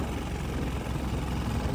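A scooter engine running on a jungle road, a steady close rumbling drone with no breaks across the short stretch.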